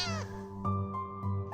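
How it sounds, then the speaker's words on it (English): A kitten meowing nearby, with two or three short, high, plaintive meows in quick succession over a steady low hum, no talking. "Oh, you're just a little kitten."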